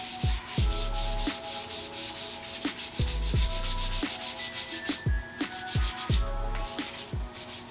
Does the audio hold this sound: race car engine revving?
no